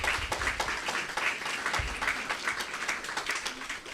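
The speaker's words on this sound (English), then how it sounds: "Please give a round of applause" An audience at a Coca-Cola commemorative can launch event with elected officials applauds, a full, even wash of clapping lasting the whole stretch.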